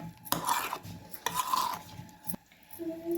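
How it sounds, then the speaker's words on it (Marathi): A spoon stirs and mixes chutney ingredients for a dosa meal, scraping and clinking against a bowl in a few short, uneven bursts, close up with no talking. "मिक्स करूया आता सगळं बघा. सगळं मिक्स करून घेऊया."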